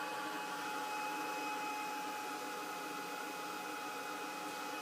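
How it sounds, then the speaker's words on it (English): A heat gun drying sparkler spray paint gives off a steady, even blowing whoosh that continues unbroken at moderate volume, close by, with no talking. "It's drying quite quickly with the heat gun"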